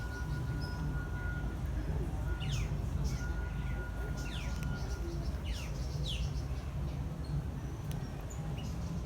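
Many birds chirp and tweet in an aviary at a theme park, quick overlapping calls against a steady broad background of ambient noise.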